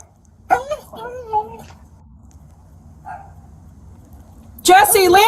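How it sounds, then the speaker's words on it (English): A police K-9 dog at a house gives a few sharp barks and whining yelps, spaced out over a quiet background, before a loud voice shouts at the end. "Lansing Police Department K-9 unit with a dog."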